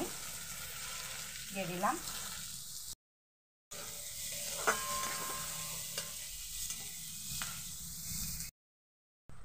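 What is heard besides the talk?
chopped onions frying in mustard oil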